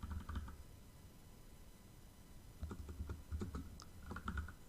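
Computer keyboard typing while a short line of code is erased and retyped during a TypeScript programming lesson: bursts of close, crisp key clicks, with a pause in the middle before the tapping resumes.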